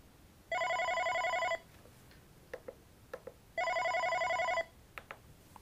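An OpenStage 40 desk phone rings for an incoming call with two identical electronic ring bursts about two seconds apart, crisp and close, separated by faint clicks and button taps.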